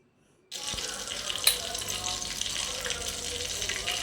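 Fish frying in hot oil on a low flame gives off a sudden, steady sizzling hiss that starts abruptly and continues evenly, fairly close and with no talking.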